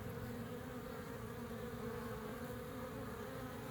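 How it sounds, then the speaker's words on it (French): Honeybees crowd around another bee, giving a continuous close droning buzz that stays even and unbroken throughout, with no voices. "là on voit qu'elles entourent une abeille"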